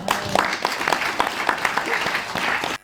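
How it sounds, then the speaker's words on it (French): A festival-opening audience applauds steadily, a dense, fairly close round of clapping that holds evenly for a few seconds and then cuts off. "on applaudit et on remercie Émile Abosolo Mdo qui est parmi nous"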